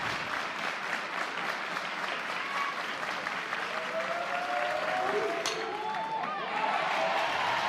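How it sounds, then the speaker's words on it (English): Crowd at an NCAA college softball game between Oklahoma and Louisiana applauds and cheers, a steady wash of clapping and crowd noise that holds throughout, with a few faint whistles late on. "Man, this crowd is fired up this morning. I mean, I can hear them in my headset."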